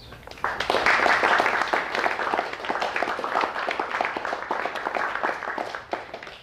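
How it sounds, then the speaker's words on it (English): Lecture audience applauding steadily for several seconds, a dense wash of many hands clapping at close range that swells early and holds before tapering slightly. "Give yourselves a big round of applause."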